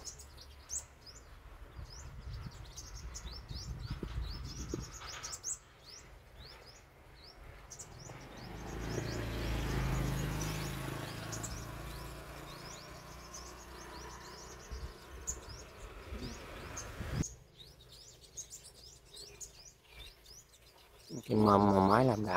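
Sunbirds call during bird trapping outdoors. Faint, high, scattered chirps sit over rustling and low background noise. A louder, close warbling call bursts in near the end.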